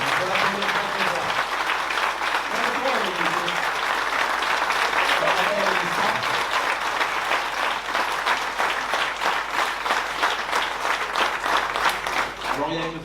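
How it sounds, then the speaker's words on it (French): A large audience applauds loudly and steadily at a 2024 edition presentation event, dense clapping sustained throughout without pause, with some voices mixed into the crowd noise. "on peut l'applaudir très fort"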